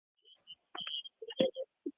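A mobile phone alarm going off during a live radio phone-in, sounding as a few short electronic beeps and tones in an irregular sequence, fairly faint and thin over an otherwise quiet line.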